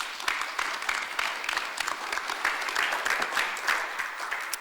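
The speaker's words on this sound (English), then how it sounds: "By all means, a round of applause is due." Steady audience applause at a conference, many hands clapping in a dense, even patter that holds at a constant level throughout.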